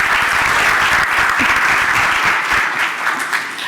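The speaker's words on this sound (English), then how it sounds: "Let's give them all a round of applause." An audience at a disaster resilience panel summit applauds with dense, sustained clapping throughout, loud and close, gradually tapering slightly at the end.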